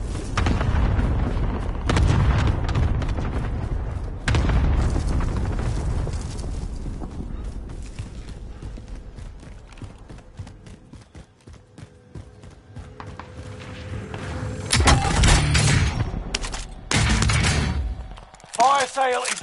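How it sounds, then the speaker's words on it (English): An enemy cluster strike in a video game sets off heavy booming explosions in rapid bursts, loud and near, with a lull in the middle before another barrage near the end. "Enemy cluster strike. Watch your heads."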